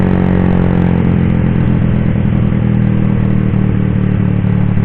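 A loud, continuous low engine drone with a steady rumbling hum, like motorcycle engines idling or cruising close by, with no pauses.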